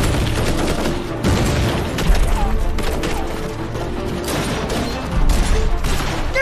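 Dense, sustained volleys of gunfire in a kung fu film shootout, loud and close, with overlapping rapid shots and booms running through the whole stretch without letup.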